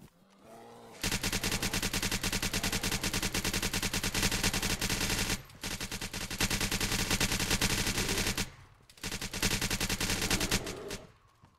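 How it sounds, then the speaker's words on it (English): Rapid automatic gunfire in DayZ rattles in long continuous bursts, loud and close, broken by two brief pauses before firing resumes. "Taking so many fucking bullets, mate."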